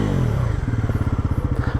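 A Bajaj Pulsar NS400Z motorcycle engine turns over and settles into a steady, loud, close idle with a rapid, even, throbbing pulse. No one speaks.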